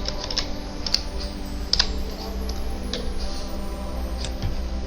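Computer keyboard keys click in quick, uneven bursts while VBA code is typed, the taps close and crisp over a faint steady hum.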